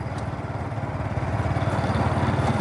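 A Revolt 70cc motorcycle being ridden, its small engine giving a close, steady, rapid putter that grows slightly louder partway through, with no voices heard.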